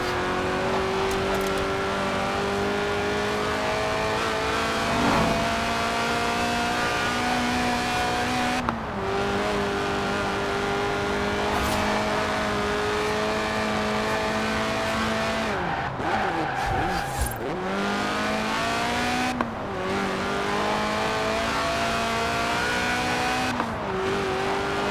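A car drifts in Forza Horizon 4 with its engine revving and droning loudly and continuously, pitch rising and falling through gear shifts, while tires squeal and skid in sustained bursts.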